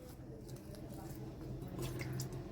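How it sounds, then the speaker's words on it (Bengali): Roasted eggplant is peeled with wet hands, giving soft, close, squishy wet sounds in a continuous stream, with a voice murmuring faintly underneath. "এবার আমি যে বেগুনটা পুড়িয়ে রেখেছিলাম সেই বেগুনটা আমি কিভাবে ছুলে নিচ্ছি"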